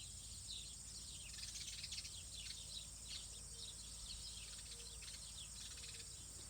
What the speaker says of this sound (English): Noisy birds.